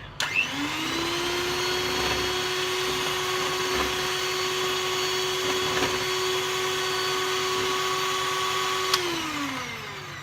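An electric whisk whirs steadily in a pan of cheesecake batter, a sustained high motor whine that spins up quickly, holds evenly for about eight seconds, then winds down, close and fairly loud.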